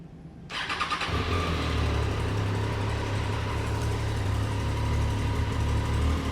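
A Triumph Daytona 660 motorcycle with an inline-three engine starts and settles into a steady, close, loud idle with a low, even exhaust rumble, no talk.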